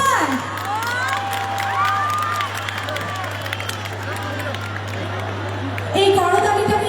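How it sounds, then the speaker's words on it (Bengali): A crowd at an evening festival stage show in Arambagh cheers, shouts and whistles amid scattered clapping, while an announcer's amplified voice talks over the noise and the crowd swells louder near the end. "এই করতালিটা কিন্তু থামালে চলবে না, জোরে জোরে চিৎকার আর করতালি চলতেই থাকবে"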